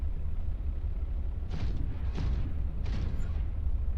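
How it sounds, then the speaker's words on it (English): Propulsion cannon arm firing in Subnautica: Below Zero, three muffled booming whooshes spaced about a second apart over a steady low underwater rumble. "Propulsion cannon makes very satisfying noises."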